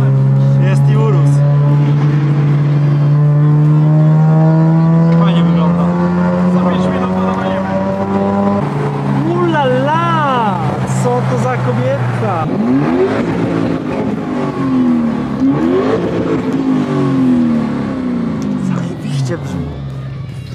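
A Lamborghini Urus Mansory in Częstochowa idles loudly, then revs in rising and falling sweeps, close and powerful, with people talking over parts of it.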